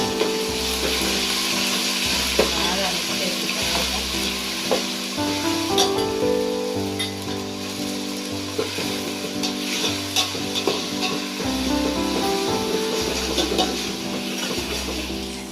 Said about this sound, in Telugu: ఇప్పుడైతే అల్లం పేస్ట్ అయితే వేసుకోవాలి